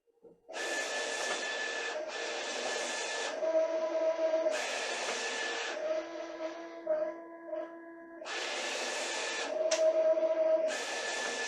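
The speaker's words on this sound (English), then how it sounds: "now the machine's going to go ahead and cut the boundaries on this" A vinyl cutting machine cuts a graphic for a bike wrap. Close, whirring motor runs come in bursts with steady whining tones and short pauses between moves.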